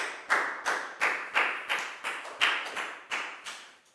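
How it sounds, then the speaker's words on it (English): A classroom of students applauds a classmate in a series of about ten rhythmic, evenly spaced clap bursts, close and fairly loud, each decaying quickly before the next. "High five and a big round of applause for Lakau, please, guys."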